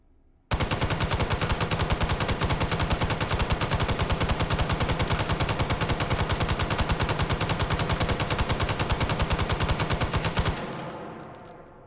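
An M60 machine gun fires from its bipod in the H3VR video game, one long sustained burst of rapid, evenly spaced loud shots lasting about ten seconds, then an abrupt stop and a fading echo.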